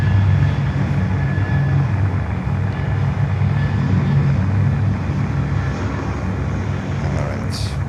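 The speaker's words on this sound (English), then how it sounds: "All right, let's take off. Spirit Airlines 320, heading to Detroit, Michigan." Spirit Airlines A320 taking off at Miami airport, a loud, steady jet roar with deep rumble that holds throughout and thins slightly toward the end.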